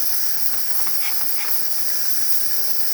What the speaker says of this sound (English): Beautiful steam coming out of the machine.